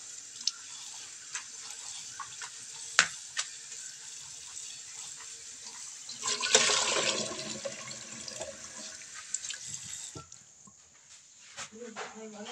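Papait leaves being washed under running water in a rural Pangasinan kitchen, with a steady gush of water that swells midway and then tapers off, alongside small knocks and handling clatter.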